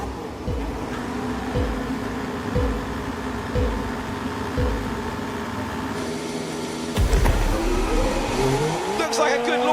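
Formula 1 race cars on the grid at the race start, engines revving in sharp repeated bursts before a loud surge as the field launches together, close and intense under a commentator's voice.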